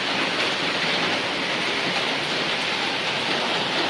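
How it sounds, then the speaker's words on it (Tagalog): Rain pours steadily during early-morning flooding, a dense, even hiss that holds at the same loudness throughout with no talking. "Sana hindi na ito lalakas. Ang ulan."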